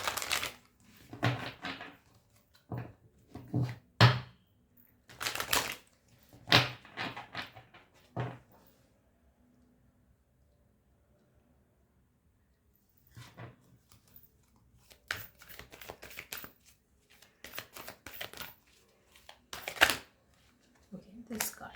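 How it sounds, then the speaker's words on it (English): Tarot cards being shuffled and pulled, heard as short crisp bursts of riffling and snapping cards close by, separated by pauses, with a long quiet gap in the middle. "I'm going to pull out one card, and that might be your guidance"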